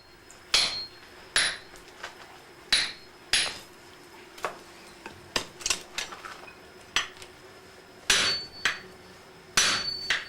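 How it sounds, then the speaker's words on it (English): A Japanese swordsmith hammers steel to sever it from its tekogane handle, a series of sharp metallic strikes at an irregular pace, some single and some in quick pairs, each ringing briefly before the next, with a faint steady hum underneath. "stage is now set for the smith to sever the steel from its tekogane handle."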